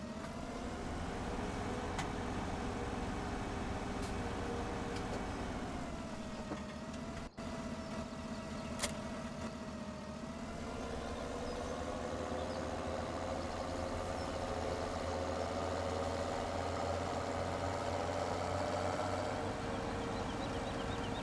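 Tractor engine idling in Farming Simulator 2017, a steady mid-pitched drone that holds throughout with slight shifts in tone and a couple of faint clicks, no talking.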